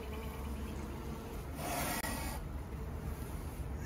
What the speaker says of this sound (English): I might get a putty knife and just scrape that out of the way a bit.